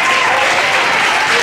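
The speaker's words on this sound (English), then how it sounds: "Give this guy a round of applause." Loud, dense applause from a school assembly audience fills the whole moment, a steady wash of many hands clapping close by with no break.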